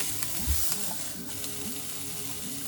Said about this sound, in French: on va faire revenir les oignons, l'ail, émincé